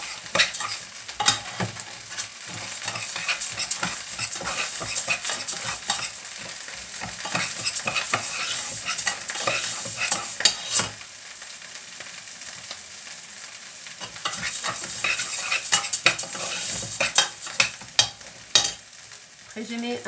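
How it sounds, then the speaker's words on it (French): Basmati rice stirred in a pot, a spoon scraping and clattering in quick repeated strokes with a soft sizzle underneath, close up and alone, pausing briefly midway before the stirring resumes. "J'essaie de mélanger"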